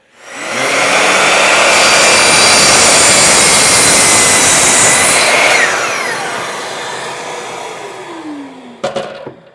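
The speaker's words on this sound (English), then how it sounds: "I've been cutting for a while here, and I've managed to get an average of about two 31-inch lengths out of each 8-foot 2x4." A power saw cuts through an 8-foot 2x4 board, a loud sustained whine and roar that runs for several seconds, then tapers and spins down to a falling tone before a few clunks near the end.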